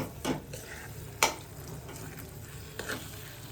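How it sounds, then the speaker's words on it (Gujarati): Potatoes being mashed and stirred in a pan while cooking a Mysore dosa filling, a few soft scraping thuds and a sharp knock against the pan, fairly close and quiet, with no talking. "પછી પોટેટો નાખીને આપણે આવી રીતના મેશ કરી લેવાનું છે બધું"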